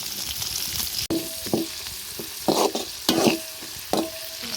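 Chopped garlic, onion, green chillies and tomato fry in hot oil with a crackling sizzle, broken by repeated scraping strokes and clinks of a spatula stirring in the pan, close and without speech.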